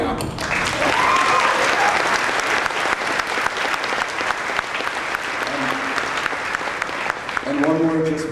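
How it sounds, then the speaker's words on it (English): An audience at a high school graduation breaks into sustained applause, dense clapping from a large crowd that fills most of the stretch, with a speaker's voice briefly over it near the end. "I think we should give all of them a round of applause right now."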